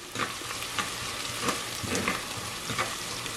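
Onion mixture sautéing in a pan as the base for a Sri Lankan dry fish curry, giving a steady close sizzle and frying crackle with soft stirring scrapes throughout.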